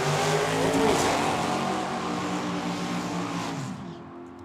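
Drag racing cars, a big Malibu and a Roadrunner, at Tucson Dragway: a loud, roaring engine rush that slowly fades as the cars pull away into the distance, ending in near silence.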